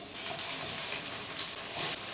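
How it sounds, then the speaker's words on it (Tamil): Masala-coated colocasia (taro) pieces dropping into hot oil, giving a steady broadband hiss of frying that swells briefly near the end, heard alone without talk. "எண்ணெய் சேர்த்து எண்ணெய் நல்லா சூடாயிட்டு இப்போ நம்ம மசாலா தடவி வச்சுருக்க சேப்பக்கிழங்கை உள்ளே சேர்த்துடலாம்."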